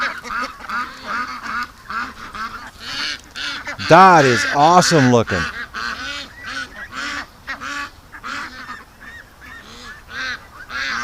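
Ducks quacking and honking at feeding time, a close burst of loud honks in the middle amid ongoing quacks, with someone talking over them.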